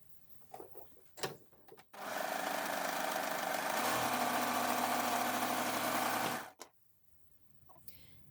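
A serger stitches French terry with its differential feed set low, a steady loud machine whir running for about four and a half seconds, with quiet handling noises before and after.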